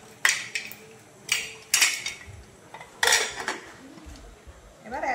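A pot of mutton paya goes into a pressure cooker in a home kitchen, making a handful of metallic clanks and scrapes of cookware, fairly close and spaced irregularly over a quiet background.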